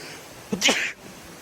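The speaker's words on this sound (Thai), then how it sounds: "หมาจามดิพี่" A dog sneezes once at a Buddhist temple site: a single short, sharp burst of moderate loudness against quiet background noise.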